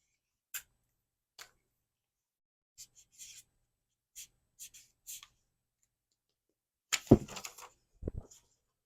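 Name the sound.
writing something down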